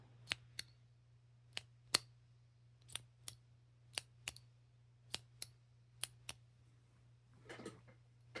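A Studio Neat Mark One stainless steel pen, limited edition Neon Green, clicks about a dozen times in sharp, close, irregular snaps against a quiet background, with a faint shuffle near the end.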